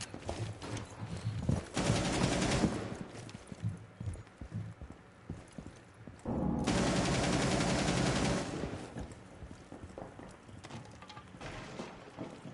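Heavy automatic gunfire from the Rainbow Six Siege shooter comes in two long, dense bursts, with scattered single shots and clattering movement between them.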